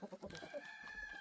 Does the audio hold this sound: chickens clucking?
yes